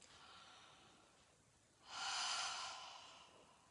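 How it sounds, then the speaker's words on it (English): Practice breaths for a singing breathing exercise: a faint soft inhale, then a louder, breathy exhale lasting about a second, close and quiet with no talk. "If you just take a few practice breaths in and out,"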